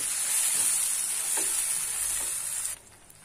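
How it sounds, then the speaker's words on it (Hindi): Marinated soya chunks (meal maker) with onions sizzle in a pan over a low flame while being stirred. Bright frying hiss runs for nearly three seconds with a few stirring scrapes, then drops away sharply. "अब इसमें हम ऐड करेंगे मैरिनेटेड मिल मेकर और इसे मिक्स करके 2 से 3 मिनट तक ऐसे ही भून लें।"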